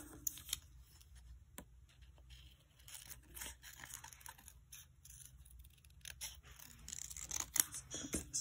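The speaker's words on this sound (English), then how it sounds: "Scissors." Scissors snip paper close and quietly while planning in a Hobonichi Weeks planner, with soft paper rustling and handling noises between the cuts.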